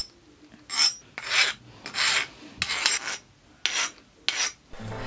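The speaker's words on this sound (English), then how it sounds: "as you can hear from the different noises that the file makes, it's very hard on the blade and nice and soft where the handle is" A file rasps in repeated strokes across a hardened forged steel tomahawk blade made from a hammer head, about seven close, loud scraping passes with short gaps between them, alone with no talking.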